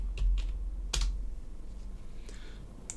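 Keys on a computer keyboard tap out a C# script name in quick irregular bursts, a few sharp clicks close by with short pauses between, quiet otherwise.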